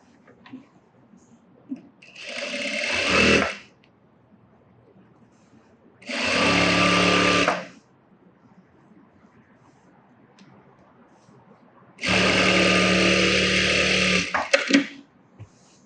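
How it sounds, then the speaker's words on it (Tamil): Three bursts of a sewing machine stitching a blouse: a steady rapid whir for about a second or two each, close and loud, separated by quiet pauses, the last burst longest and ending in a few uneven stitches. "இதை உள்ள கூடி நம்ம தையல் போட்டுருவோம்"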